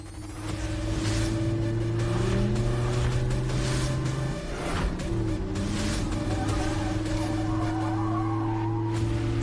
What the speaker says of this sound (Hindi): सो आ गई गाड़ियाँ।